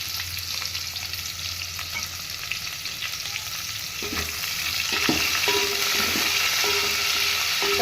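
Steady, loud sizzling of curry leaves, onion and garlic frying in hot oil, with occasional crackles and stirring clinks, no voices.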